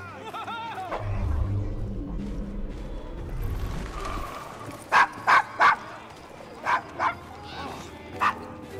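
A dog in the Assassin's Creed Syndicate video game whines and whimpers, then gives a run of short, sharp barks and yips close by, with speech around it.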